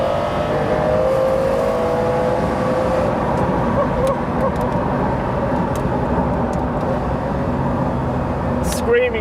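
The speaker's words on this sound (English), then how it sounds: "screaming engine in the Carrera GT is just sensational." Porsche Carrera GT engine running hard in a loud continuous drone with a rising whine, heard from inside the car while someone talks over it throughout.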